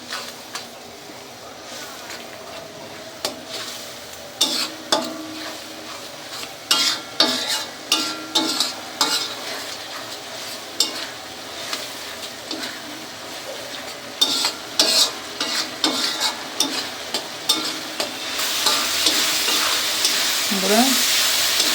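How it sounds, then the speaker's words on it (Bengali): Spices, chili powder and salt being stirred and mixed in a frying pan for a katla fish curry, with a steady sizzle and repeated rhythmic scraping strokes of the spoon, close and clear, no talking. "এখন আমি ভালো করে নেড়ে ছেড়ে মিশিয়ে নেব।"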